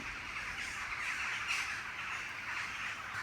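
A crow caws on a university campus, harsh repeated squawks carrying over a steady outdoor hiss at moderate distance, with no talking.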